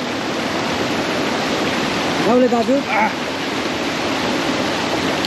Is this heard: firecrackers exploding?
no